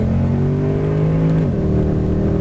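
A Mercedes CLS 63 AMG engine accelerates hard on a passenger ride, a loud, close, steady drone with rising tones that dip briefly at an upshift, then climb again.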